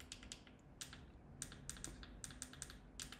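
Quick, light keystrokes on a computer keyboard as a password is entered during a device reset in security settings, coming in short, faint clicking bursts separated by brief pauses.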